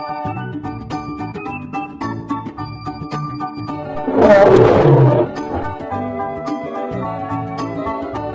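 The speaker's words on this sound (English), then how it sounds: "Lion." A cartoon lion gives one loud, rough roar of about a second, rising out of a continuous cheerful music track.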